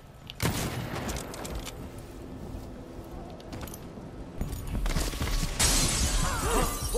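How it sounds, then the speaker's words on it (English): Glass shatters in the video game Dishonored 2, a loud crash and spray of breaking shards with further crashing debris and clatter, heard alone without talk. "broken glass."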